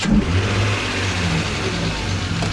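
A BMW E34, a winter beater with running issues, has its engine running close by, a low steady drone with a slight rev at the start and a rough, uneven hum throughout.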